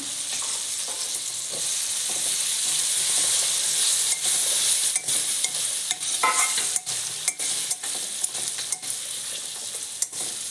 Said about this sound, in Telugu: మీడియం ఫ్లేమ్లో ఇలా వేయించుకోవాలి